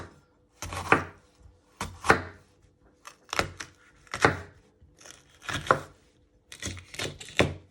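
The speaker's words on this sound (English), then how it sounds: "So next you want to chop your pepper in half. And you just want to finely slice it." A knife finely slices a pepper on a cutting board, giving about a dozen crisp, separate chops in small bursts with brief pauses between them, close and clear.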